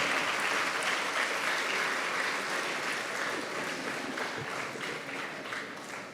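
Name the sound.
audience applause at graduation felicitation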